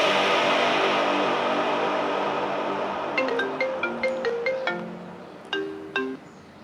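A mobile phone ringtone starts partway through and repeats its short melodic tones in bursts over steady background music, in a domestic scene from an Assamese TV serial.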